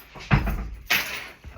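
A door is pushed shut nearby, two soft thuds with a short rattle between them, fairly close in a quiet indoor room.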